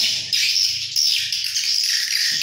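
An electronic swiftlet attraction call played through a speaker, giving a continuous shrill, high chirping twitter that pulses and stutters slightly while staying loud and unbroken, with a faint low murmur underneath.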